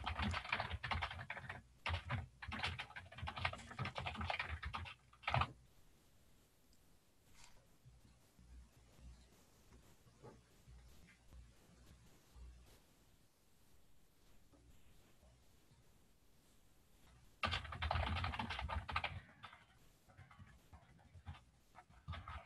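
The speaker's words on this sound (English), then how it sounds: "I'm just going to type that into the chat feature as well." A message is typed into a chat on a computer keyboard, with a quick close burst of key clicks, a long quiet gap, and then another short burst of typing.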